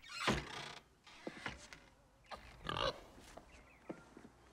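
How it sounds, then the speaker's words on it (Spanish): A pig in a comedic stage play produces several short, separated grunts and squeals, some sharp and loud, others softer, against a quiet background. "le traigo este puerco"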